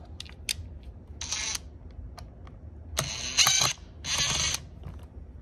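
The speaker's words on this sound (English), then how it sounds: "you can use the screwdriver" A screwdriver unscrews two small screws on a smart toilet's water heater cover, giving several short clicks and ratchety bursts with pauses between them, heard close up and quiet.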